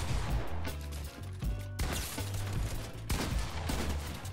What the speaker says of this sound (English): You just shot me through a floor